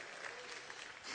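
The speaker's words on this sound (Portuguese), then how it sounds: "Dá aí um aplauso ao Senhor" Church congregation applause at a pastors' gathering, a brief steady wash of many hands clapping.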